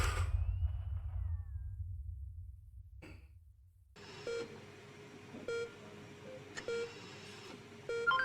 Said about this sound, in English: The rhythmic beeping of the heart monitor brings you slowly back to consciousness.